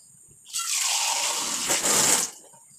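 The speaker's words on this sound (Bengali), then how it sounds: "আর একটু জল দেবো" Water is poured into a pot of cooking vegetable lentil dal, a short, close, steady gushing splash lasting about two seconds.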